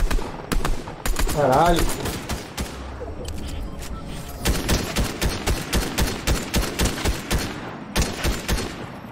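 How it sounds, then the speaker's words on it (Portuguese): Rapid bursts of gunfire in a multiplayer shooter video game ring out, loud and close, in repeated volleys and steady strings of shots, with a player's voice exclaiming over the shooting. "tem alguém atirando, hein?"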